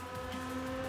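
A 1991 Honda Beat race car on the Eiger Nordwand circuit, its small engine droning with a steady tonal hum that rises slightly in pitch, fairly faint and heard alone for under a second.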